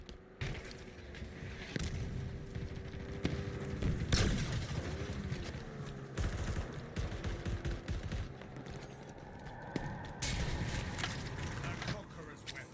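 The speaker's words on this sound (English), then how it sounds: "I didn't realize how loud the S7 was. That's incredibly loud." S7 sniper rifle fire in Halo Infinite Big Team Battle, heavy booming shots and rapid bursts of game gunfire amid explosions and thuds, with a player talking over the action.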